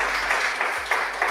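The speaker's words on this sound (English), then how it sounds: "let's call Christian Rodriguez up here again and give him a round of applause" An audience at a political forum held in a union hall applauds Christian Rodriguez, producing a brief, steady wash of many hands clapping throughout.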